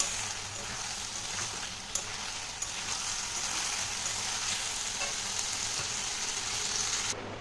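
Okra and shrimp curry masala sizzles steadily in a pan, a soft continuous frying hiss with a few faint clicks and no voices.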